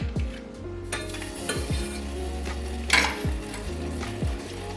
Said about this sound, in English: The butter right now is melting